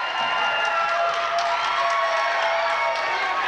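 A high school basketball student section, with fans dressed in their Sunday best, cheers and hollers in a gym after a seven-point lead in Tuscola versus Villa Grove. The roar is loud, dense and continuous, with clapping and whoops mixed in.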